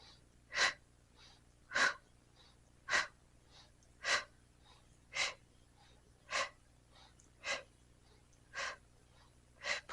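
Rhythmic, forceful exhalations from a person doing Pilates pelvic lifts, about ten sharp breaths evenly spaced roughly one second apart, close and clear over a faint steady hum.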